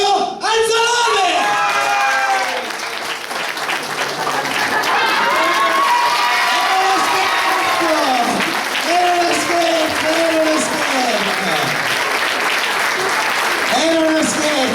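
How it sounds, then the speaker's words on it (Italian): Loud, sustained audience applause for actor Cecco Alfio Anzalone at a theatre company's stage show, dense and continuous, with whoops and shouted voices rising above the clapping throughout. "Per questo voglio un applauso davvero forte nella parte di Cecco Alfio Anzalone."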